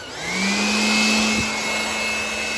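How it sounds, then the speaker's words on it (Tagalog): A handheld electric blower bought online runs continuously close by with a steady whining motor tone and rushing air, spinning up at the start and holding level throughout. "Yung blower na to."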